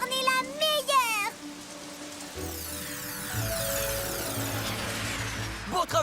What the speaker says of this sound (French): Elle se sert de sa corne magique pour faire venir la pluie!